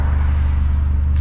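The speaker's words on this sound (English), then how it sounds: "As you can hear, it's got a full straight pipe" Supercharged Mini Cooper S with a full straight-pipe exhaust, intake and coilovers, rumbling loudly and steadily at close range, a deep continuous drone with no talking.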